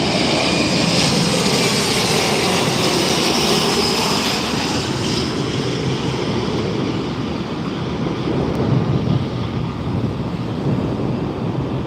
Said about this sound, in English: Alaska Airlines getting ready to head out.